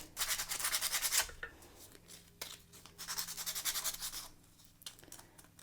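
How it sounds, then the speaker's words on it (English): Sandpaper rubbing over a tiny replica skateboard deck, close and fairly loud, in two bursts of quick back-and-forth strokes separated by a brief pause, with no voices. "So I'm going to give it a smooth sand after."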